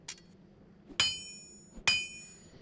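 The Diablo 2 blacksmith Charsi's hammering sounds from the video game: a light tap followed by two loud ringing metallic anvil strikes, each leaving a bright decaying ring.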